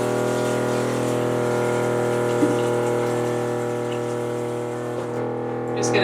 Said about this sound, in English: Just going to put some water in that bowl.